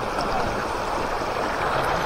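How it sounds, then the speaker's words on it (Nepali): Water pours steadily from a stone water spout, a soft continuous gurgling flow at moderate distance with no talk over it. "यहाँ चाहिँ धारा छ"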